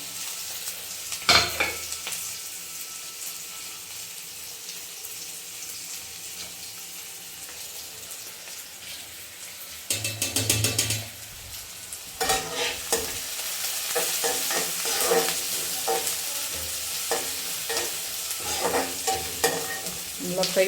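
Mustard seeds spluttering in hot oil in a pan, with scattered sharp spits and stirring scrapes, growing busier in the second half; no talking.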